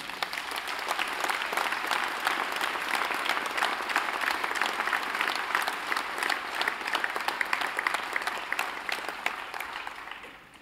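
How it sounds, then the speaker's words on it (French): A crowd at a New Year's address in Courcouronnes applauds steadily for about ten seconds, dense clapping that holds level and then tapers off at the end. "J'aimerais qu'on les applaudisse également et je les remercie"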